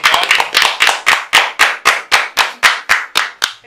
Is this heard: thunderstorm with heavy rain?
no